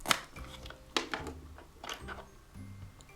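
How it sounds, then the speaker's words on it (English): Knife chopping raw shrimp on a cutting board, a few sharp separate cuts spread across the moment with quiet gaps between strikes, close and fairly soft, no talking. "Next, let's cut our shrimp."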